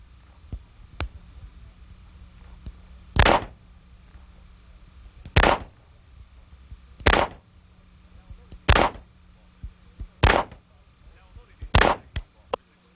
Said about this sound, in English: simply drop one cartridge into each chamber and then close the cylinder